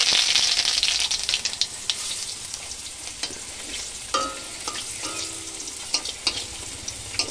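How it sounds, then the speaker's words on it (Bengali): Radhuni seeds and dried red chillies sizzle hard in hot mustard oil in a kadai, a steady bright crackle with sharper pops and a stirring scrape or two, close and alone. "আর রাঁধুনি আর শুকনো লঙ্কা ফোড়ন দেবো"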